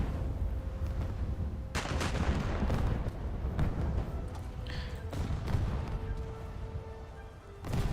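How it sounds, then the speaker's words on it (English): A battleship's shell room detonating in a naval combat video game, heavy booming blasts and rumbling impacts repeating through a continuous roar of gunfire. "Oh, the shell room just blew up."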